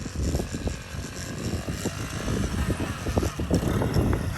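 A custom Honda Z50 minibike fitted with a big cam idles and revs nearby, a lumpy, choppy engine note with uneven pulses and rising throttle blips.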